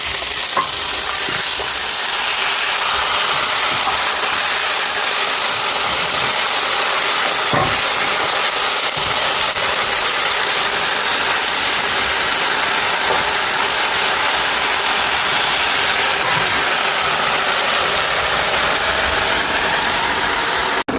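Amaranth stem greens sizzling loudly in a hot wok, a dense continuous hiss of frying with occasional sharp crackles and stirring clatter, no voices.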